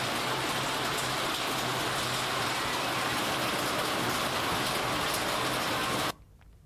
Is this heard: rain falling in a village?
yes